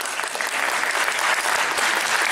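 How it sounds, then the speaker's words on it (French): A room full of people applauds student filmmakers at a university masterclass during a film festival, giving dense, lively clapping that holds steady and loud from start to finish. "je voudrais qu'on les applaudisse avant"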